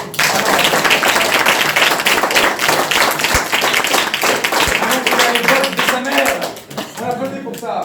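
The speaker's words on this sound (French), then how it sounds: "On applaudit pour ça." Dense, loud applause from a theatre audience at a stage show, sustained for several seconds and tapering slightly near the end.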